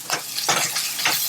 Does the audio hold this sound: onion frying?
yes